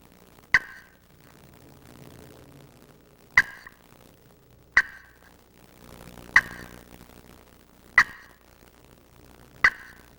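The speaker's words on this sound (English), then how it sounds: "The cluck is probably the next sound that you want to make." Six sharp, isolated turkey clucks struck on a friction call with a striker, each a crisp single pop spaced one to two seconds apart, close and clear over a quiet background.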